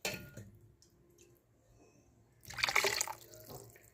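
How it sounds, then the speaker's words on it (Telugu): Tamarind water is poured into a pot of mashed dal for pulusu, giving a brief liquid splash and trickle that swells near the end after a few quiet clinks and drips. "అది కొంచెం చింతపండు నీళ్ళు పోసేసి నేను వేసేస్తున్నాను"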